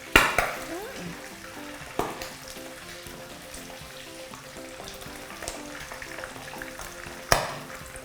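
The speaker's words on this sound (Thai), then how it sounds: "ตอนนี้น้ำมันกระเด็นมากเลย" Shrimp fry in oil that splatters heavily, giving a dense, crackling sizzle with sharp spits and pops at intervals. Soft background music plays beneath the cooking.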